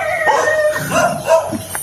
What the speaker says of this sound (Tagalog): So, may mga aso dito mga idol.